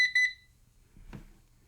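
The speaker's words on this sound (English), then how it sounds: "if you hit the power button twice in rapid succession, it silences the stupid alarm" An uninterruptible power supply's alarm gives three short, loud electronic beeps in quick succession at the start, followed by quiet handling noise.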